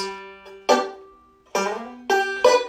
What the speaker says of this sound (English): Notice what I'm doing is I'm sliding on the 4th string only.